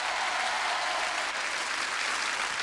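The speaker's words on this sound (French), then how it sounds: "On l'applaudit, on l'encourage." Studio audience applause on a French TV game show, a loud, uniform wall of clapping sustained without break for a few seconds.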